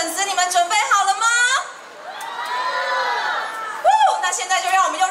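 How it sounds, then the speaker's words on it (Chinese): A crowd of fans in Taiwan cheers and screams to welcome the brand ambassador Wu Zun at a promotional event, with loud high-pitched shrieks and excited voices rising in waves before and after a short lull. "现在就让我们用热情的掌声和尖叫声来欢迎我们的国际品牌形象大使吴尊"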